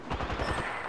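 Rapid automatic gunfire in Apex Legends, a quick run of about eight evenly spaced shots lasting under a second, loud and close, with no voices.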